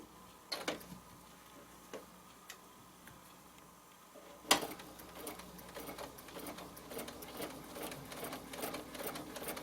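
A sewing machine stitches a pillow design, running in short bursts at first with clicks and ticks, then settling into a steady, close mechanical chatter after a sharp knock.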